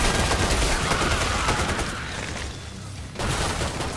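Continuous automatic gunfire in the zombie shooter Killing Floor 2, a dense loud rattle of shots that briefly thins out before resuming at full intensity.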